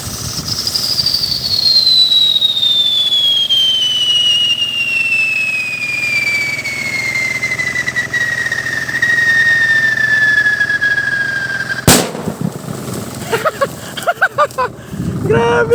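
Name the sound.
homemade scream whistle firecracker exploding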